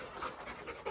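Two dogs pant at a veterinary clinic, a quick rhythmic run of soft, breathy huffs heard close but faint for under a second.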